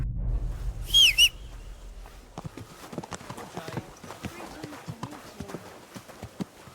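A sharp whistle calls a horse in Kingdom Come: Deliverance II, followed by steady clip-clop hoofbeats approaching and trotting, with someone talking over the hooves.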